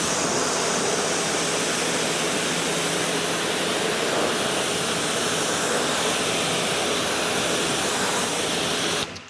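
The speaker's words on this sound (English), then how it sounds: "All right, let's rinse down this rear section." Steady, loud rush of a water hose spraying the rear section of a car with a long-term ceramic coating, continuous dense hiss throughout that cuts off right at the end, no voices.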